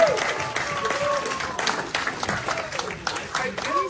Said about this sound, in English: Give it a round of applause for Chris the Comedy Bunny!